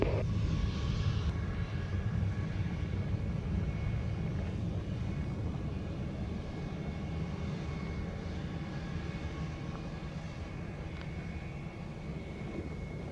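A fixed-wing airliner landing at Montego Bay airport in Jamaica, its engine roar loud and steady throughout, with a faint tonal whine riding over the broad rumble and no voices.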